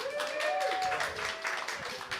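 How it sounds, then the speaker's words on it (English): Audience applause for a quiz contestant at a live show in a small venue, a steady wash of clapping filling the whole stretch while a voice briefly carries over it. "Can we get a round of applause for Jude?"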